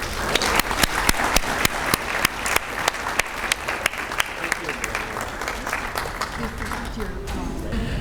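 A packed hall audience welcomes a guest lecturer with loud, sustained applause, the dense clapping running nearly the whole time and easing slightly toward the end.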